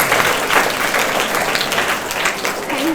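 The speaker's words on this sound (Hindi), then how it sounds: "ये कृति के लिए तालियां बजाओ आप पहले।" Students clap for Kriti, a class 7 pupil, at a school session, a dense steady round of applause that fills the room throughout with no pause.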